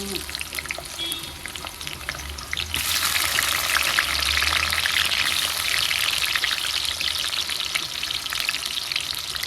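Onion dropped into very hot oil in a pan for pasta, first a quieter background, then a sudden loud, steady frying sizzle with crackles that continues close up to the end.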